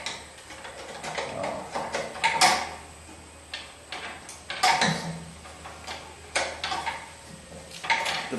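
A ratchet wrench loosening a bolt on a rear brake line near the differential mount, heard as irregular bursts of close metallic clicking with short pauses and small clanks in between.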